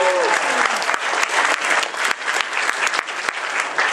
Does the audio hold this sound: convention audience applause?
yes